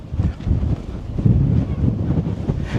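Gusts of strong wind sweep over a small mountain near Las Vegas, a close, heavy rumbling buffet on the microphone that rises and falls in waves.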